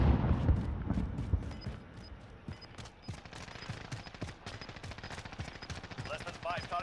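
Rapid automatic gunfire in the Call of Duty Warzone battle royale game, a fast stream of sharp shots rattling on amid game noise, with a player talking over it.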